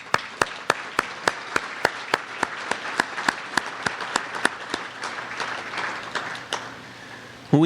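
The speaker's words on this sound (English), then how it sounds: "Maybe we could all give them a round of applause" An audience at an evening gathering gives a round of applause, heard as a run of sharp, evenly spaced claps over a softer bed of clapping that thins out toward the end.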